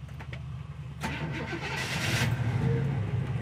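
A 1963 Chevrolet Nova SS cranks and fires up, the starter's quick churn giving way to a steady, loud idle that builds slightly, heard close up with no talking.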